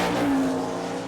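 A Ford powered sprint car at a speedway on a dirt oval screams past in a brief, loud engine howl whose pitch drops slightly as it goes by.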